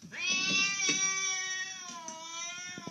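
A cat meows loudly and close by in one long, drawn-out, whining call with a clear tonal pitch that sags slightly over about three seconds, sounding annoyed or demanding, with no talking over it.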